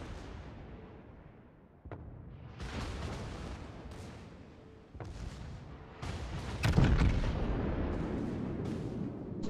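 Heavy battleship guns firing in World of Warships during a Yamato versus Kurfurst duel, a few deep booming blasts over several seconds, each followed by a rumbling tail, the loudest coming late.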